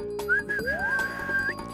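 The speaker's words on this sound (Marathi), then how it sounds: "शिट्टी तर वाजते ना." A pressure cooker whistle sounds as a short, high, clear tone that glides in pitch and holds briefly before cutting off, alone and lasting under two seconds.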